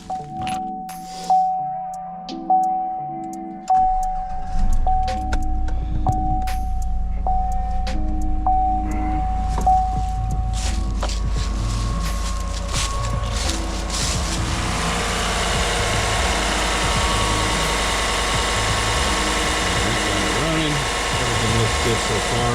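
A 2015 Chevrolet Silverado 1500 pickup, after a thermostat and coolant sensor replacement, is heard near: a few metal clanks, then the engine cranks, catches and settles into a steady idle rumble that continues to the end.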